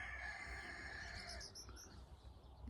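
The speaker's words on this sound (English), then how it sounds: "Roosters wanting attention." Roosters crowing at a distance, faint and drawn out, with a few quieter overlapping calls following; no one talks.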